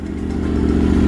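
A new motorcycle idles steadily after starting, its low engine rumble close and continuous with a faint clatter over one second, and no one speaking.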